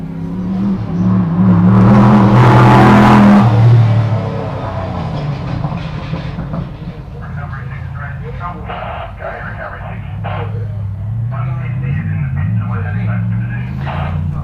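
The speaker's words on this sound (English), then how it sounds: "Southern Cross Mark 5, burgling and gurgling out of the exhaust system there." A Southern Cross Mark 5 pro race buggy engine at a Sunday SGORA 200 off-road race, loud rumbling and gurgling exhaust that swells then settles into a steady burbling drone, with commentary talk over it.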